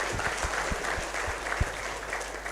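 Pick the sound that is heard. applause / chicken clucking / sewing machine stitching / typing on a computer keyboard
applause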